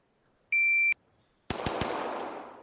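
A short electronic timer beep comes first; after a brief pause, three rapid, loud gunshots crack out in a VR shooting game, leaving a reverberant tail with no talking.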